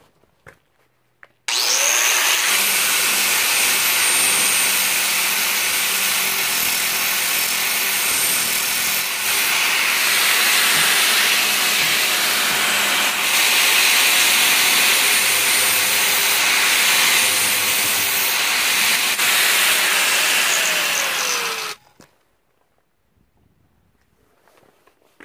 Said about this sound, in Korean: 이 날을 한번 갈아 보겠습니다.